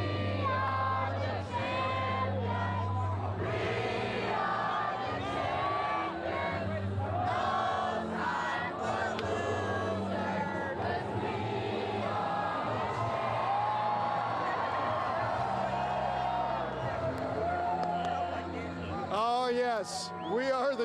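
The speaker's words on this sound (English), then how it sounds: "Just listen to this crowd singing." A basketball crowd celebrating the San Diego State Aztecs' outright Mountain West Conference regular-season title sings and cheers loudly and continuously as the team cuts down the nets, with whoops and chatter mixed in throughout.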